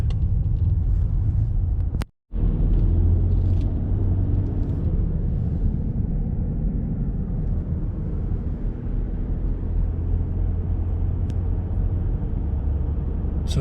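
A car pulling over to the side of a road near Newton, New Jersey, heard from inside as a steady low engine and road rumble that eases off, with a brief dropout partway through.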